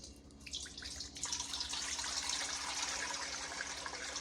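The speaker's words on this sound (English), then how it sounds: "That's 4 cups of warm water." Warm water pours from a tap in a steady gush, four cups measured out for ciabatta bread dough, beginning with a few drips before the flow grows fuller and continues unbroken.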